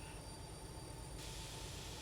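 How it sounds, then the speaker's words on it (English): Two locomotives brake together on independent brakes only in the Derail Valley train simulator, a steady grinding rumble with a squealing hiss that swells brighter partway through, and no talking. "So just these two locomotives braking."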